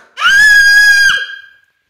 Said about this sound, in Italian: Fai un urlo.